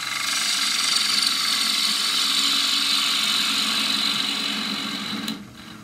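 A wood lathe spins as a half-inch spindle gouge hollows a forest sheoak lid, a steady close cutting hiss and motor whine that cuts off abruptly near the end.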